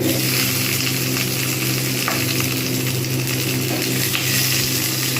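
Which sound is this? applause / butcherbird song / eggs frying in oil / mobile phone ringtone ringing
eggs frying in oil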